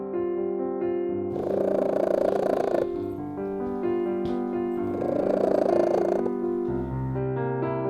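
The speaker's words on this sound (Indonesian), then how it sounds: "Dengkuran kucing selain menandakan rasa nyaman dan senang, dengkuran ini juga bisa menandakan gugup atau ketakutan." A domestic cat purrs steadily and loudly up close, with the rumble swelling in two stronger bursts, likely as it inhales, and no voices over it.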